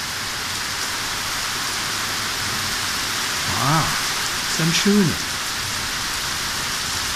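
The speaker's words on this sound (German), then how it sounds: "Jetzt hast du halt so einen richtigen geilen Regen von oben." Heavy rain falls straight down during a thunderstorm over Fürstenwalde, a dense steady hiss that stays even throughout, with a few brief voices speaking under it partway through.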